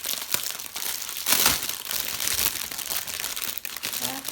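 Plastic packets of diamond-painting drills are opened by hand, with crinkling, rustling and brief crunchy bursts coming close up at irregular moments.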